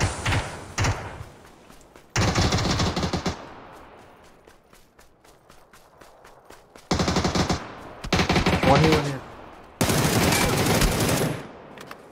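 Automatic gunfire in a battle royale video game, several loud rapid bursts broken by quieter gaps, with a long sustained burst late on, close and harsh, with little talk.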